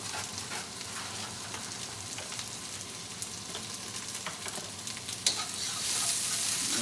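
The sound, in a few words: chicken piccata sizzling as it cooks in a pan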